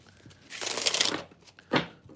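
A deck of tarot cards is shuffled close by with a quick riffling burst, followed by a softer second flutter and light handling noise.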